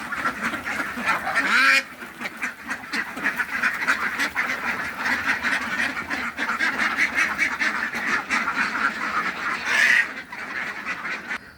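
A crowd of ducks quacks continuously at a duck farm in Chuadanga, a dense, loud chorus of overlapping calls from many birds close by.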